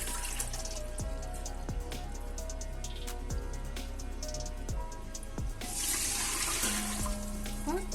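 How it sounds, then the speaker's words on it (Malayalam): Plain water pours from a steel mug into a 1 kg pot for a catering-style Malabar fish biryani, a steady splashing stream that swells louder toward the end, with clinks of metal throughout. "ഇതിലേക്ക് ഞാൻ പച്ചവെള്ളമാണ് ഒഴിക്കുന്നത്"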